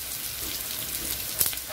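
Urad dal and chana dal frying in hot oil for lemon rice, a steady close crackle and sizzle with a brief sharper pop near the end.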